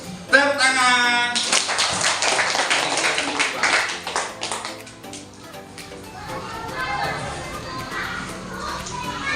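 A classroom of primary-school children claps hands in a rapid, loud burst of many overlapping claps, then settles into livelier chatter and scattered clapping from the group.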